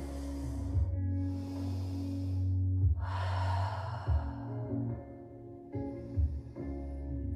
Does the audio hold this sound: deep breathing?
yes